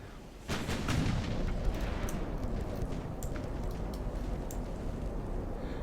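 Naval gunfire in the Ultimate Admiral warship game: a dense, continuous roar of booming cannon and explosions that opens with a sudden burst and keeps rumbling loudly throughout, with sharp cracks scattered on top.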